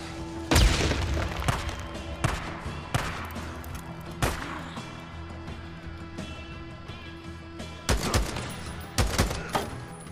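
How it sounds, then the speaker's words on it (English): A grenade blast in the Days Gone video game: a loud booming burst near the start, followed by repeated gunfire-like impacts and thuds spread through the rest of the scene, with no clear talk. "Grenade!"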